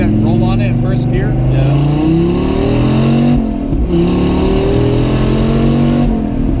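A car accelerates hard in first gear, engine note climbing steadily in loud rising sweeps that dip briefly at a shift point before climbing again, close and continuous, with voices faintly underneath.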